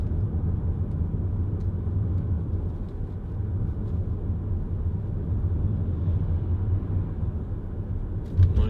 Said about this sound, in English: Lexus just going by on the other side